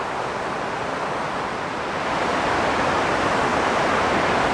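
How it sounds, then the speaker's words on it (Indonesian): A small glacial stream in the narrow Grindelwald gorge rushes steadily, a dense, even roar of running water that swells slightly toward the end, with no voices. "Airnya nggak terlalu besar tapi selalu mengalir rutin"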